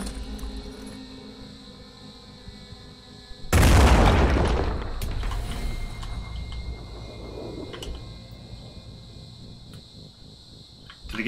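A Boom Blast weapon fires in Phoenix Point: one heavy, sudden boom after a low ambient hum, then a long rumbling decay with faint mechanical clicks as the background settles.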